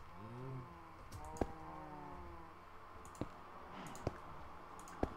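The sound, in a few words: mouse clicking while playing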